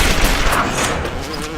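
Pistol fired rapidly in the video game BioShock, a dense, loud burst of overlapping shots and impacts packed tightly together in a short, chaotic, close-sounding barrage.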